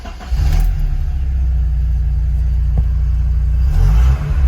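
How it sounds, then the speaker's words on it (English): Porsche 924S engine starts: a brief crank, then a steady idle rumble that holds loud and even for several seconds before a slight dip near the end. "Let's start the car."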